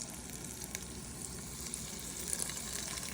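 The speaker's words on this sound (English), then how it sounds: "we're gonna add a little bit of oil into it so that we can start cooking the meatballs" Venison meatballs fry in oil in a skillet, giving a steady, close sizzle with crackling pops that run the whole time with no voices.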